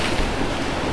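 Stormy surf crashes on a beach at Fiolent, a dense, roaring wash of water and wind noise that is loud and continuous throughout.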